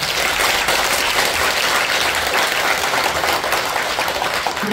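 A large audience at a Buddhist dharma talk gives a monk a dense, roaring round of applause, continuous and loud throughout, with no voices over it.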